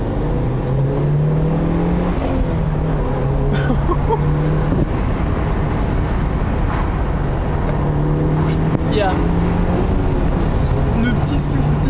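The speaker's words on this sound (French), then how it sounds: "On a enregistré tout à l'heure quand on était dans la montagne le son du moteur." A Mitsubishi Lancer Evolution VIII's turbocharged engine drones steadily up close on a mountain road, rising and falling with gear changes, a faint turbo whistle riding over the loud rumble.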